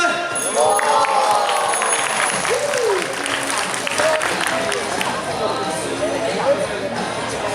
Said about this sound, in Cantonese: 俾啲掌聲佢